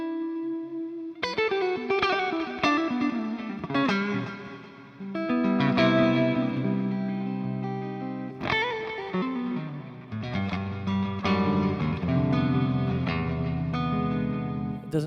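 An electric guitar with a humbucker pickup plays through heavy distortion, sounding a series of sustained chords and notes with sharp attacks and thick, saturated harmonics, alone and up close.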